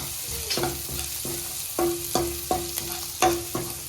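Ginger garlic paste fries in a pan for bread bhaji, a close sizzle punctuated by regular scraping strokes of a spoon stirring against the pan, about one every half second.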